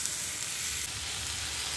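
Pointed gourd and potato pieces frying in a pan, a steady close sizzle with constant crackle throughout, no pauses or talk.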